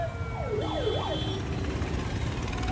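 Police and ambulance sirens wail past on the road toward Khanauri, a rising and falling siren sweep over steady traffic rumble, moderately loud with no voices.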